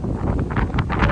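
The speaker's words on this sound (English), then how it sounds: "I don't know if you can hear me because it's really windy" Strong wind buffets the microphone outdoors on a farm during a storm, a steady broadband roar with gusting surges throughout and no talk.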